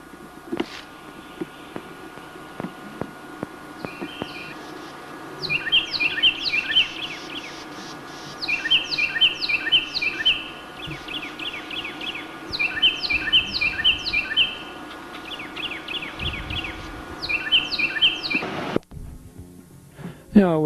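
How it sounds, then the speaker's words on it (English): Birds sing outdoors in the woods, repeated bright chirping phrases in bursts over a low hum, with a few clicks and a thud near the end. "listen to those pretty birds there"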